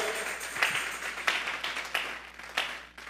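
A church congregation claps during a worship service, offering applause to God; a few sharper clap bursts rise from a steady reverberant patter of hands in a large hall, moderately loud, with no talk over it.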